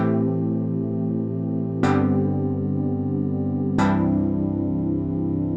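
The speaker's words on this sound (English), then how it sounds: "So at the moment, we have got our standard synth layer that sounds like this." A standard synth layer plays three sustained, rich chords, each struck anew about every two seconds with a bright attack that rings into a smooth, full decay, loud and alone.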